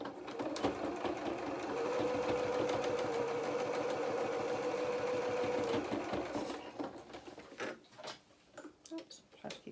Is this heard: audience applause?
no